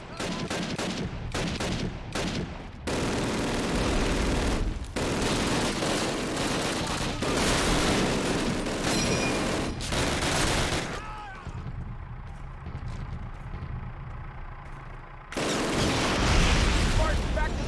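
A Panzerfaust and gunfire in a battle against a tank in Call of Duty: sustained loud bursts of rifle and machine-gun fire with heavy explosive booms, dipping briefly before a renewed roar of combat near the end.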